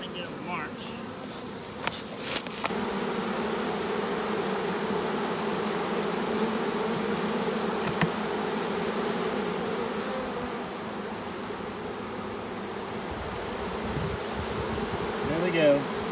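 Dense, continuous buzzing of a honey bee swarm close by, steady and moderately loud, with a few faint knocks and rustles early on.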